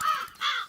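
Crows give two quick, harsh caws in close succession, nearby and clear with no other sound around them.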